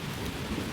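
Steady rain falls with a low rumble of thunder underneath, continuous and broadband with no speech.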